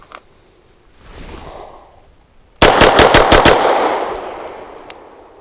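Grand Power Mk23 X Calibur CO2 pistol firing a rapid string of about six sharp, loud shots close by, after a softer mechanical rustle.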